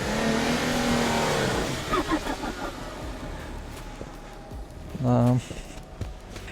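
Engine of a stock Audi Q7 straining uphill through heavy wet snow on a mountain climb, a steady loaded drone with a brief revving surge near the end, while people talk over it.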